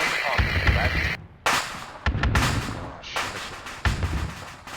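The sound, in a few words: grenades detonating in the video game Afrika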